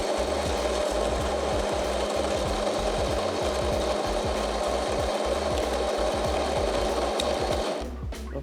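A Sunbeam Origins Sense espresso machine pulls a double shot, its pump giving a loud, steady pulsing rattle with a rhythmic low throb that runs almost nonstop before cutting off near the end.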